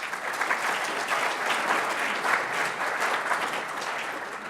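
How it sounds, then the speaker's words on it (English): A seminar audience at a rail industry awards event gives a quick, steady round of applause, dense clapping held at an even level throughout, no speech over it. "we could just give a quick round of applause for Tim"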